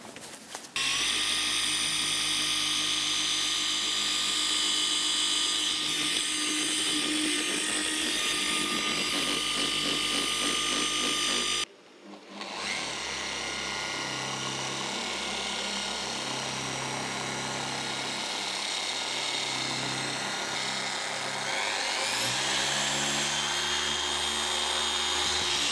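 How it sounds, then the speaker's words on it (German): A FLEX cordless random-orbital polisher runs on car paint with a loud, steady whine and hum that cuts out briefly, then restarts and keeps running, its pitch shifting near the end. "Und jetzt geht's an die Exzenter-Maschine."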